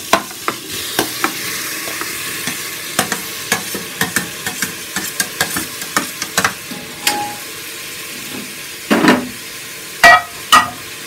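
Ginger and garlic fry in a pan with a steady sizzle, while a spoon scrapes and clicks against it in quick, repeated stirring strokes, close and loud.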